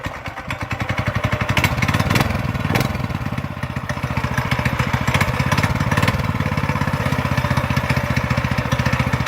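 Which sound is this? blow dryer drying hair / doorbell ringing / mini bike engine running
mini bike engine running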